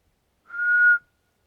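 A person whistles a single flat, steady monotone note imitating a raccoon's locator call, clear and isolated against silence for about half a second.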